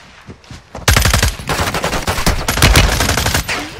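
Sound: gunfire from a video game

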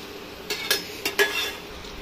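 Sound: garlic sev frying and being flipped in oil

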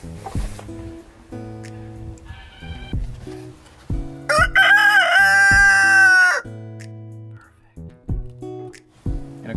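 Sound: rooster crowing

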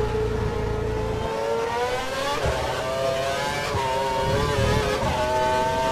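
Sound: F1 race car engine in video game F1 2012

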